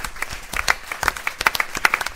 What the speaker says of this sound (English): so I think a quick round of applause to say thank you very much